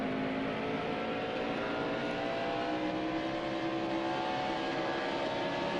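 Simulated race car at New Hampshire in a racing video game, a continuous close engine drone with a rising and falling tonal whine, steady and loud throughout.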